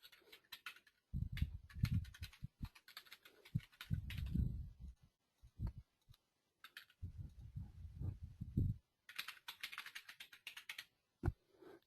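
Irregular bursts of keyboard typing close up while SQL Server database connection details are entered, quick clattering keystrokes with brief pauses between runs.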